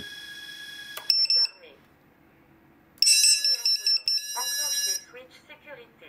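Two bursts of high electronic beeping from an FPV quadcopter drone's small buzzer, close by, separated by a quiet pause, with a voice speaking faintly underneath.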